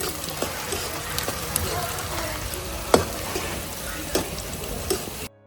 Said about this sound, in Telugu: ఫస్ట్ అయితే ఆనియన్ ఫ్రై చేసుకుంటున్నాం